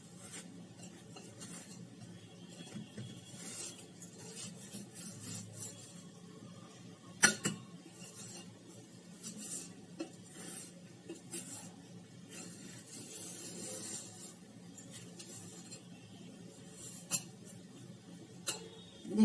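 Spinach and carrot dhokla batter ingredients being stirred together in a bowl: a steady, quiet scraping and stirring with occasional sharp clinks of a spoon against the bowl, heard alone without talk.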